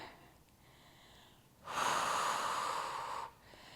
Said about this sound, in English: Breathing through it.